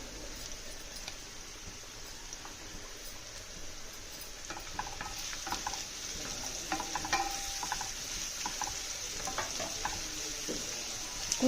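Goat brain fries in a pan with turmeric and salt, giving a close, steady sizzle with crackles. Scraping stir strokes and light clinks of a utensil against the pan come and go, and the frying grows slightly louder toward the end.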